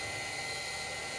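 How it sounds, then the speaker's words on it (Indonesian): A high, whining grinder with a sanding disc runs steadily up close, smoothing the rubber sole of a women's boot, its abrasive buzz droning without pause. "langsung dirapihkan memakai amplas gerinda"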